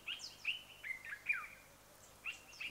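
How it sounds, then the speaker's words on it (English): A songbird sings outdoors in a series of bright, high chirps and short trills, spaced in quick bursts with a brief pause. It sounds moderately close but soft, with no talking. "You hear the bird, eh?"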